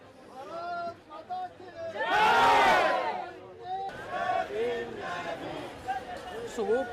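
Protesters gather at Jantar Mantar, New Delhi: a loud crowd swells into a chanting roar of many voices, then breaks into closer overlapping chatter and shouts as people mill around.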